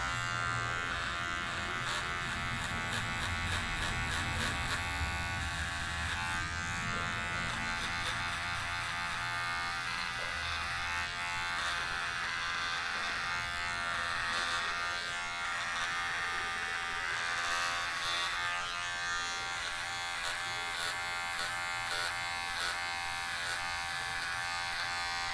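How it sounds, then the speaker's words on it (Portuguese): Steady electric hair clipper buzz runs without a break while a barber cuts a fade starting at a 0.5 guard in a barbershop, with no talking. "Lembra que a máquina sobe reto e não faz curva, não acompanha a cabeça, sempre reto"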